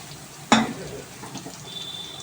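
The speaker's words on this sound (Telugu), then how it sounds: "ముందైతే ఆనియన్స్ వేసేద్దాం." Onions tipped into a pan of hot oil, a sudden sharp splash of sizzle that quickly settles into quieter frying with light stirring and utensil clinks.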